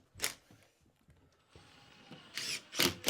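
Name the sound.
power drill driving screws into a board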